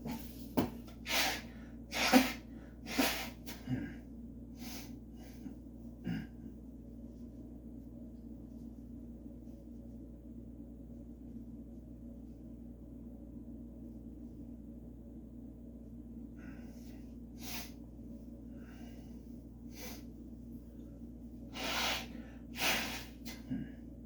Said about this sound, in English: So let's go ahead and blow my nose.